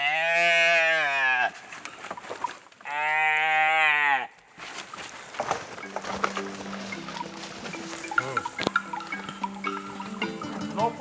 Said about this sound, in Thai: นั่นลูกวัวใครนั่นน่ะอยู่นอกรั้วนั่นน่ะเกิดใหม่นั่นน่ะ